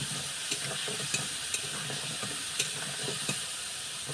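A spoon stirs spice paste with turmeric frying in oil for an egg and potato curry, giving a steady hiss with a few soft scrapes spaced through the clip; nobody speaks.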